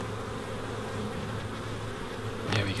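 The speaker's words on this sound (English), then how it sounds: "Oh, now look at all these bees." Honey bees swarm over a hive frame pulled up from a beehive, a steady, dense buzz close by that holds throughout and swells briefly near the end, with no voices.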